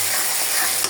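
Chopped onion and tomato frying in a pan for chicken curry, a steady broadband sizzle held at an even level for a brief moment, with no voices.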